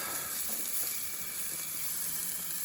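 Fresh venison tenderloin seasoned with pepper and seasoning salt sizzles steadily in a pan at an on-ice fishing campout, a soft continuous frying hiss with no talking.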